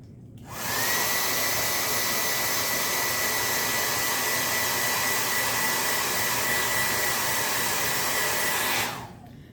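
A handheld dryer blows hot air over a St. Patrick's Day paper craft project, starting abruptly and running as a loud, steady, even whir with a faint whine for about eight seconds before cutting off.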